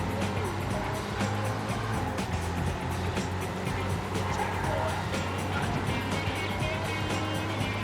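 Cars race in the Burnout video game on PS2, engines roaring continuously with constant road noise and a rushing whoosh, while people talk over the game sound.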